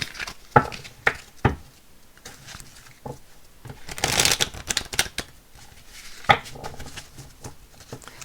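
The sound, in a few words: shuffling a Rider-Waite tarot card deck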